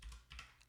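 Computer keyboard keys struck in quick bursts, a handful of soft clicks and taps close up, ending on a sharper press.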